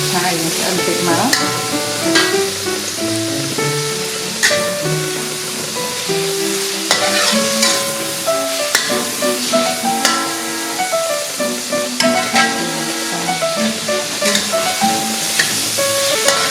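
Shrimp and French beans tossed in a hot pan, giving a steady sizzling hiss broken by repeated spatula scrapes and metallic clanks at an irregular stirring rhythm, close and fairly loud.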